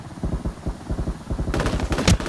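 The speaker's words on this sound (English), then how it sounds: "Oh, he's shooting me!" Automatic gunfire in the online battle royale shooter Ring of Elysium rattles out as a fast, evenly spaced burst of shots lasting about two seconds, fairly loud with no talk over it.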